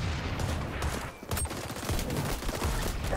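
Heavy pistol shots from a Desert Eagle in the video game XDefiant crack repeatedly and loudly over busy game noise, with a short lull partway through.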